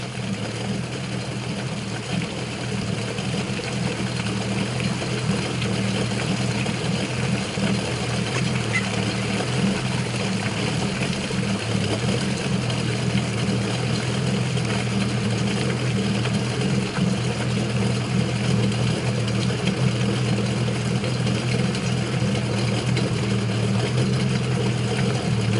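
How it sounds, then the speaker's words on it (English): A Honda AquaTrax F15X jet ski engine idles steadily while warming up before an oil change, a continuous close low drone with an even mechanical hum that stays level throughout, no talking. "we'll resume after the engine has warmed up and we're ready to change the oil"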